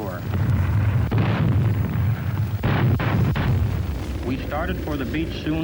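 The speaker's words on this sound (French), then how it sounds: "Plus les obus tombaient sur les plages, et moins il y aurait de Japonais en face de nous." Artillery shells exploding on beaches during a WWII landing against Japanese forces, rumbling booms and bursts layered under narration.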